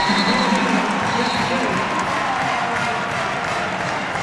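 A loud basketball arena crowd at an NCAA men's game between Kent State and Bowling Green, a dense steady roar of voices with scattered cheers filling the whole stretch.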